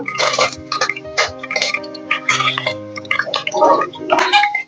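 Cumin, bay leaf and curry leaves crackle and sizzle in hot oil for egg biryani, a busy, close, continuous spitting with bursts of popping throughout.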